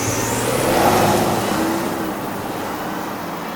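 A 2015 Audi Q5 with a 3.0L V6 TDI diesel engine runs with a steady, close, mid-level rumble.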